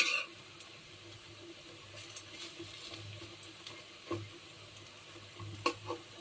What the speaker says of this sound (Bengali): এখন এই তেল ছিটা আসছে